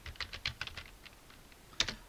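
Typing on a computer keyboard while entering a timetable in Excel: a quick run of close, clicky keystrokes, a short pause, then one firmer key press, quiet overall.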